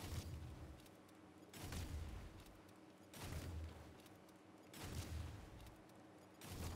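Homing missiles striking the Acid Lab vehicle in a video game, heard as five heavy, muffled booms at a steady rhythm about every second and a half, each followed by a rumbling tail, fairly quiet overall with no talking.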